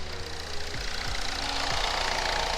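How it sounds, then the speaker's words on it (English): An engine idles close by with a steady low chugging rumble, its pitch wavering a little as it settles. "Right, the engine is idling."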